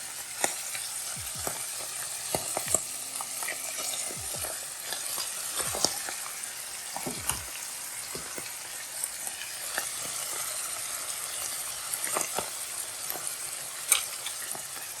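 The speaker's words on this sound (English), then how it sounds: "You're going to do that for 6 eggs and just kind of like put them in different spots in the skillet" Six eggs frying in a skillet with a constant bright, hissing sizzle and scattered pops and crackles, close and steady throughout, with no voices.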